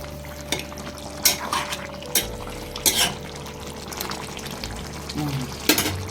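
A spoon stirs brinjal and egg curry simmering in a pan, with intermittent scraping and clinking strokes over a soft, steady bubbling hiss.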